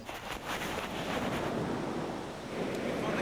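Surf rolls onto a public beach in Somerset, a steady wash of breaking waves mixed with gusty wind buffeting the microphone, swelling slightly in the middle and end.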